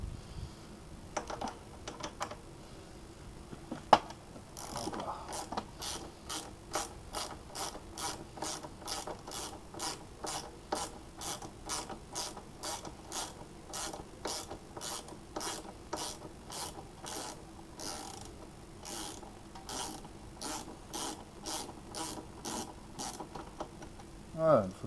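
A ratchet wrench loosening screws on a stock motorcycle exhaust during removal, with a long, evenly paced series of sharp clicks close by, preceded by a few scattered metallic handling sounds.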